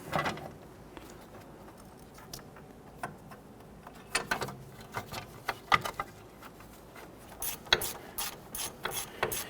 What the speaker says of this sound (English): You can use that socket and extension to reach in there and get that going.